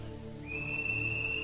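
A single whistle blast starts about a third of the way in and then holds steady, shrill and close, over a low background hum to the end.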